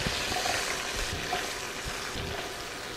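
Sliced onions hiss and crackle steadily in hot burger grease in a skillet, a dense, continuous sizzle held close and fairly loud throughout with no talk.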